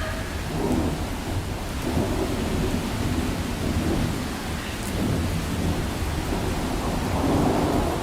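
Thunderstorm with steady heavy rain and deep rolling thunder rumbles, a continuous loud wash of downpour filling the whole stretch with no voices.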